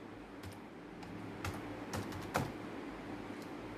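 Python code typed into an interactive prompt on a computer keyboard: a handful of sparse, quiet key clicks with a sharper keystroke near the end, no talking.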